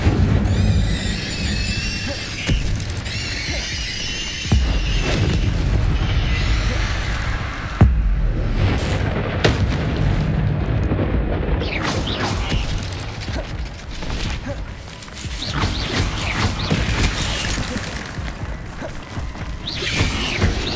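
Spells crackle and burst in Hogwarts Legacy, with a fiery Incendio blast amid a dense, loud stream of magical impacts, crashes and rumbling combat effects that run continuously over the whole stretch.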